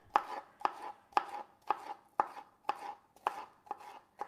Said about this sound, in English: Now you cut the capsicum into strips,